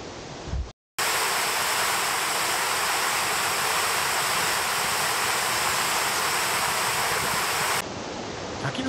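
A mountain stream rushes along a rocky ravine route, giving a loud, steady roar of churning water that fills nearly the whole stretch after a short gap near the start.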